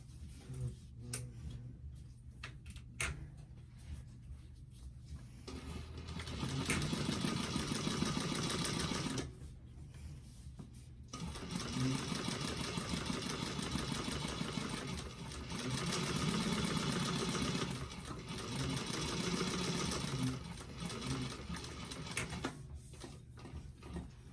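An industrial sewing machine top stitches a bag panel at a 4 to 4.5 stitch length, humming and ticking in several steady runs with short pauses between them, fairly close and without talk.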